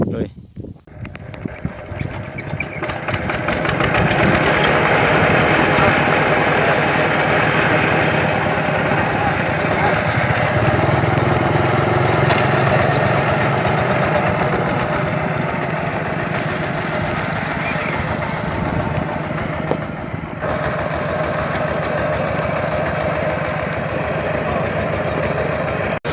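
A tractor engine runs steadily and loudly for the whole stretch, a continuous rough mechanical drone heading out to a jungle hill, with people talking over it.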